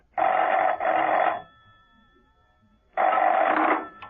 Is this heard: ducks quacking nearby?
no